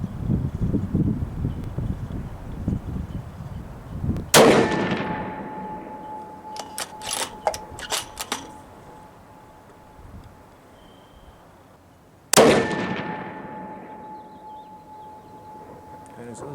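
A Savage 110T rifle in 6.5 Creedmoor firing 125 grain Winchester white box ammunition at an outdoor range: two loud, sharp shots about eight seconds apart, each with a ringing decay, over faint wind and background noise.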